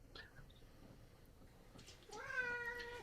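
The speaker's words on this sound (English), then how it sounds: "that's my cats fighting behind me" Two black cats fight a short distance away indoors, with brief yowls and scuffling, then a rising drawn-out caterwaul, faint behind a quiet room.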